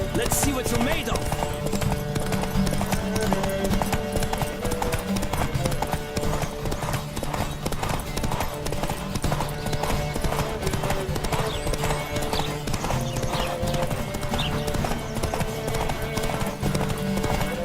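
Horses gallop in a race in The Witcher 3, with dense, rapid clip-clop hoofbeats running continuously over game ambience and music, some neighing and voices mixed in.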